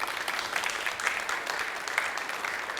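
Audience applause at the close of a conference talk on GraphQL, a steady moderate clatter of clapping hands sustained evenly throughout with no voices over it.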